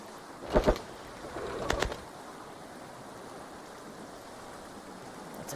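Birds in the VR Regatta sailing video game, two short bursts of cooing calls near the start over a soft, steady nighttime ambient wash that continues alone afterward.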